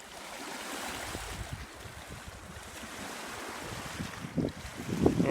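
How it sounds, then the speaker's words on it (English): Gentle Lake Michigan-style waves lap and wash against the shore at Fayette Historic State Park, with a soft wind rumble in the background and slightly louder splashes toward the end. "Just listen to that beautiful water."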